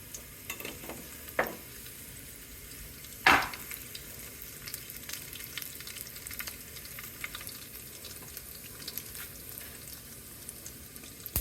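Seasoning seeds and two red chillies frying in hot oil produce a steady soft sizzle, broken by a few sharp pops and crackles near the start, with a faint stir now and then.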